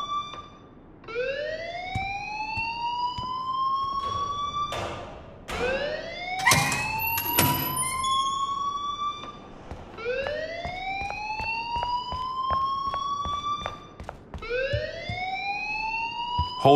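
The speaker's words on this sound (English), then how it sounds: "please turn off that alarm" An alarm rings in the Life Is Strange video game, a loud electronic siren that sweeps upward again and again, with each rising wail overlapping sharp clanks and bursts of noise.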